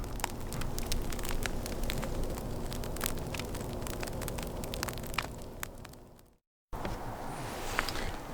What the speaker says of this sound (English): Can you hear it crackling? The ice melt